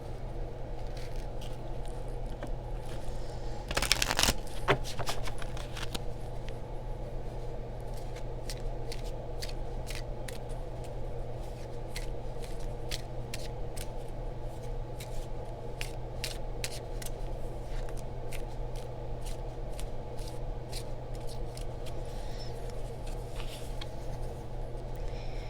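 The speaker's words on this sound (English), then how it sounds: "I will pull some Romance Angels cards because this does include relationship." Romance Angels oracle cards being shuffled by hand, a steady run of soft riffling flicks and slips close up over a faint constant hum, with one brief louder burst near the start and no talking.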